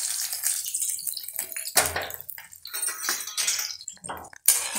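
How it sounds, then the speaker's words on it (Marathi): Water poured into dhokla batter while it is being mixed in the kitchen, a steady splashing stream with brief clinks of a utensil, close and fairly loud, with no talk over it. "थोडं मी पाणी पण सोडून घेते."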